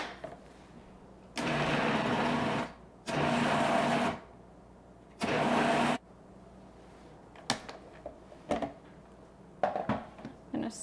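A food processor pulses eggs into a carnivore bread mixture in three loud, close bursts of motor whir, each roughly a second or two long, followed by quieter scattered clunks and clicks.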